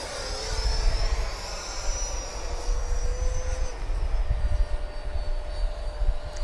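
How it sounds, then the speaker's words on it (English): An FMS Rafale model jet with afterburner flies by with a steady, high-pitched turbine whine over a rumbling roar, fairly loud and continuous, with no voices. "Beautiful flying plane"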